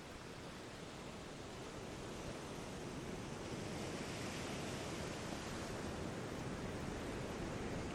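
Ocean waves wash onto the shore as a continuous broad roar of surf, steady and fairly faint throughout, with no voices.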